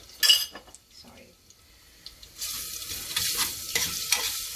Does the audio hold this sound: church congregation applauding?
no